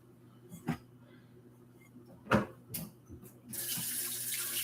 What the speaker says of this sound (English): let's rinse our meat